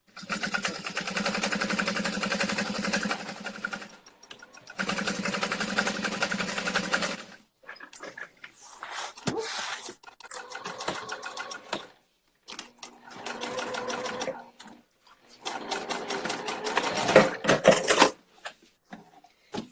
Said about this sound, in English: I'm gonna sew about 1/4 of an inch or whatever gets as close to the teeth without going through the teeth.